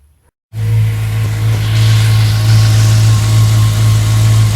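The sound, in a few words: Audi B7 RS4 engine test start after oil refill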